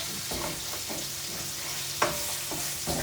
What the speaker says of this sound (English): in goes the onions into that same hot oil